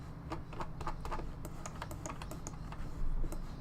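A computer mouse clicks in quick, irregular runs of sharp, faint taps at a desk, with nothing else audible.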